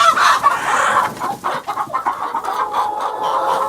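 Chickens clucking and calling inside a coop they have broken into, several hens close by in a continuous, busy chatter with one brief crow-like call near the start.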